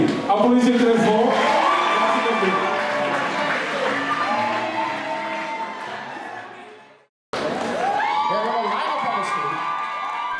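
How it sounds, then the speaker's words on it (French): Loud crowd applause mixed with cheering, whoops and high shouts at the Miss Guinea North America 2017 pageant. The noise runs continuously, cuts out abruptly for a moment, then resumes at full strength. "Applaudissez très fort."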